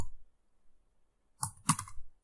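Fast clicking keystrokes on a computer keyboard while text is entered in a design tool, two short bursts after a quiet stretch, close and fairly soft, no talking.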